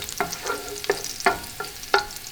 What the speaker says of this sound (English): now we start with the garlic. All right, see, and the garlic already started to jump.